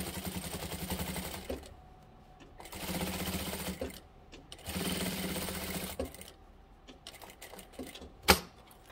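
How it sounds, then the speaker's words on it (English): Sewing machine top stitching a fabric towel topper, running in three steady bursts of rapid mechanical whirring separated by quiet pauses, with a sharp click near the end. "So we're top stitching and closing the opening up."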